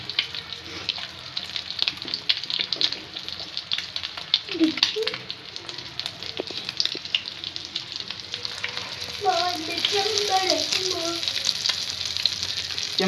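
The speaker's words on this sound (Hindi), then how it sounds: "हाथ से मैश करके अब मैं इसको कर लूँगी फ्राई" Chicken shami kebabs fry loudly in a pan with a continuous close sizzle and spatter, while faint clinks and brief stirring sounds come through and a quiet voice is heard in the background.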